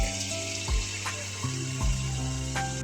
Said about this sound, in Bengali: বাবা ভোলানাথের নাম নিয়ে প্রথম পিঠেটাই দিলাম, দেখলাম সঙ্গে সঙ্গে ফুলে উঠেছে।